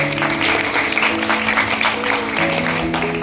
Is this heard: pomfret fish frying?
no